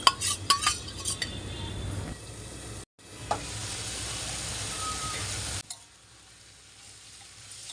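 Pieces of fish go into a pan of simmering tomato gravy: a few clinks and stirring knocks, a brief pause, then a loud steady hiss and sizzle that cuts off sharply, leaving quiet bubbling.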